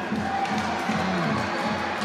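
Spectators at an Asia League ice hockey game cheer and shout from the stands, a continuous, moderately loud crowd roar with scattered voices and no single dominant sound.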